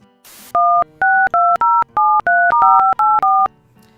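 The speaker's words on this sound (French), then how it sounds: "il faut que j'appelle quelqu'un" A telephone is dialed to call someone: a short burst of dial tone, then about ten crisp, loud touch-tone beeps in quick succession, each a two-pitch electronic tone, heard alone with no talking.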